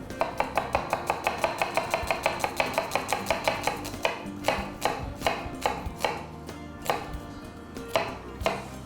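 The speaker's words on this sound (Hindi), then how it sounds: "इसको फाइनली हल्का सा चॉप कर लेते हैं" A knife chops food for Italian meatballs on a cutting board in a steady, rapid run of sharp, close knocks, then slows into heavier, more spaced strokes for the last few seconds, with no talking.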